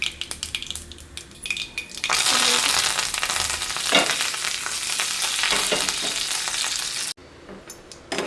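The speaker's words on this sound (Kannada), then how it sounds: "ಒಂಚೂರು ಸಾಸಿವೆ ಒಗ್ಗರಣೆ ಹಾಕಬೇಕು" Mustard seeds with green chillies and curry leaves hit hot oil for a tempering, opening with scattered pops and crackles, then a loud continuous sizzle close up, briefly cut and resuming at the end.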